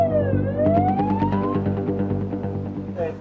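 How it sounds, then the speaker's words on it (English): Police sirens wail loudly and close, their rising and falling tones sweeping over a rumbling engine, then fading as another siren burst starts near the end. "The group scatter when they hear the police sirens."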